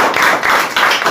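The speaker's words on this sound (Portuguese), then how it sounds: "Quem pode dar uma salva de palmas ao Senhor?" Rhythmic congregational clapping in a Portuguese-language church service, a quick steady beat of hand claps from many people, close and loud throughout the short burst.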